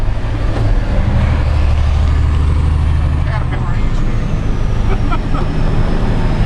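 A Kenworth logging truck rolls along with a deep, continuous diesel engine rumble heard from inside the cab and a long hiss of air brake release midway, while people talk over the drone.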